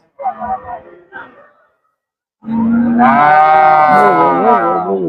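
A brief bit of talk, then one long, loud, close moo from native cattle at the Punjai Puliampatti cattle market in Erode district, its pitch rising and falling over about three seconds.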